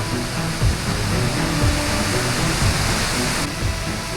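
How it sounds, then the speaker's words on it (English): Steady, roaring wash of Seljalandsfoss waterfall in Iceland, heard from inside a rocky cave behind it, fills the space, a dense broadband rush with deep low rumble, loud and close, no voices. "Standing inside the rocky cave with the water crashing right in front of us, loud, misty, and powerful"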